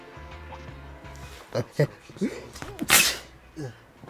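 A single sharp sneeze bursts out near the end, preceded by a few quick breathy sounds and soft vocal noises.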